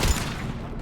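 Gunfire in the video game Mass Effect 3, a short, loud burst of rapid shots with a heavy low-end boom that rings out over less than a second.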